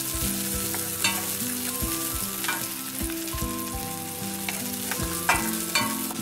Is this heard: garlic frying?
yes